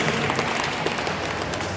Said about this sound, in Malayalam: കൈയടി കൊടുത്തേ